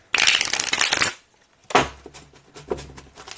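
Tarot cards riffle in a fast, crisp shuffle up close, then after a short pause come a second, lighter burst of shuffling and tapping.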